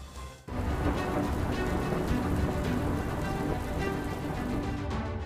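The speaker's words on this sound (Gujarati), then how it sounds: "ઉત્તર ગુજરાતમાં વરસ્યો મુશળધાર." Torrential downpour in North Gujarat, a loud, dense hiss of rain that starts abruptly after a brief quieter moment and then holds steady and close without voices.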